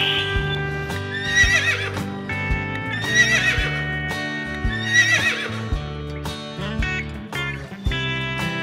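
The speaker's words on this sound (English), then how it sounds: "Horse, black and orange color horse." A black and orange horse neighs repeatedly in loud, close whinnies, with several quavering calls and some hoof clatter in between.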